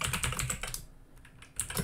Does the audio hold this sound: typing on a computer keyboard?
yes